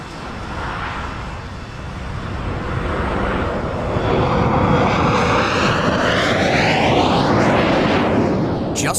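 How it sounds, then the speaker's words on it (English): A de Havilland Comet jet airliner takes off from London Heathrow, its engines roaring louder and rising in pitch, with a sweeping whine building toward the end. "Comet Yoke Peter took off from London Heathrow bound for Johannesburg"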